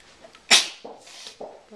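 A single sharp sneeze bursts out close by during a hair-braiding session, loud and brief, followed by quieter sounds and faint voices.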